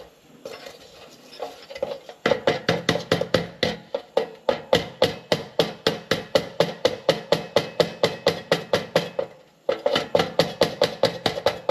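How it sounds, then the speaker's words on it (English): A hammer strikes a rusty, century-old metal top-lift lantern over and over in a fast, steady rhythm with clanking rings, pausing briefly once before the pounding resumes. "When stuff doesn't want to move, hit it with a hammer."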